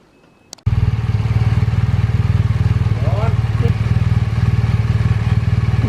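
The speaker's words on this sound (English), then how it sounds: "he needs to go and take this bike for a spin to get the oil warmed up" A GS motorcycle engine starts after a faint click and settles into a steady, close, throbbing idle while it warms its oil before a ride.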